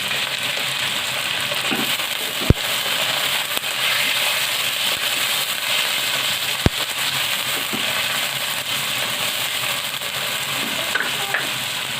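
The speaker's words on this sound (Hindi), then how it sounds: "इसके अंदर मैं चिकन को ऐड करने लगी हूँ। प्याज के साथ चिकन भी हमारा फ्राई हो जाएगा।" Chicken and onions fry in a pan with a steady, dense sizzle, punctuated by a couple of sharp clinks of a utensil against the pan, with no voices.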